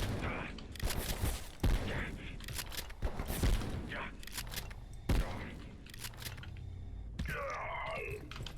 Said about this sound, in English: Okay, regular shotgun.